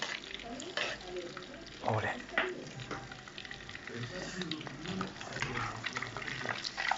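Meatballs of ground meat sizzle and crackle in oil in a pan, a steady fry that swells with stirring and turning, while a voice talks quietly underneath.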